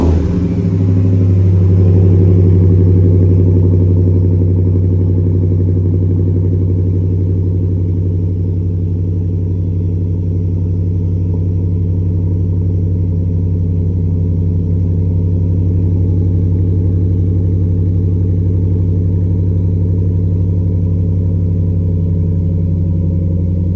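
A 2025 Ram 1500 with its Hemi V8 fires up and settles into a steady, loud, deep idle rumble, a brief swell at the start easing into an even low drone that carries on alone throughout.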